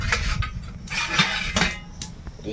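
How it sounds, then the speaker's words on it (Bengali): A metal lid lifted off a cooking pot of taro greens, giving several short clinks and scrapes of metal on metal, close and fairly loud, with no talking. "কচু শাকটা একটু ঢাকা দিয়ে রেখেছিলাম এবারে একটু ঢাকাটা খুলে দেখি কি অবস্থা"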